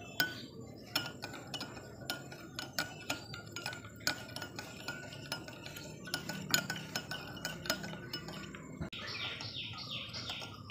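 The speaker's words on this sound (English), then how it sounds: "In absence of mixture, I have to stir it up to mix them properly, the lye and coconut oil." Lye and coconut oil stirred by hand in a bowl to make soap at home, giving a run of light clinking, scraping strokes at an uneven rhythm, close and moderately quiet, with no talking.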